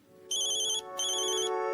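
An incoming call sounds as a phone ringtone, two bright electronic tone bursts with a short gap between them over a steady background tone, close and clear.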